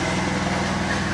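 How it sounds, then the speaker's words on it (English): A small engine drones steadily throughout, a continuous mid-pitched mower hum with no breaks, fairly close and moderately loud. "he's headed up there with the lawnmower"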